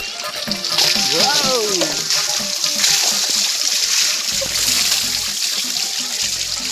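Water splashes and trickles steadily while someone bathes outdoors in a village, a continuous close wash of spray under cheerful voices talking.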